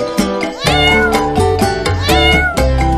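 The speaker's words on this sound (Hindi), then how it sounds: "अरे वाह, ये बिल्ली के बच्चे बहुत ही सुंदर रेस कर रहे हैं।" Several kittens meow loudly and repeatedly during a kitten race, high overlapping cries in close succession with no pauses.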